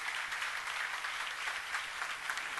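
Church congregation applauding during a sermon, a steady dense wash of many hands clapping together, moderately distant and continuous without a break.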